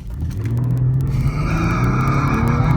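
A 2013 Cadillac CTS Performance Coupe with all-wheel drive accelerates hard on the road, its engine droning and rising steadily in pitch, loud and close, with no voices.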